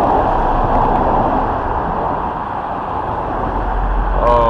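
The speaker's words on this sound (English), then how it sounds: "Oh, the noise from the traffic." Steady road traffic noise rolls past a single-span steel underpass bridge, a continuous broadband rumble of passing vehicles that swells slightly at the end, heard fairly close and loud with no talking.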